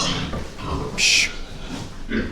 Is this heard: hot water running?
no